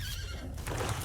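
A horse neighs once in the card game Magic: The Gathering Arena, a short, bright whinny that rises and quivers, with a soft thud of hooves, loud and close.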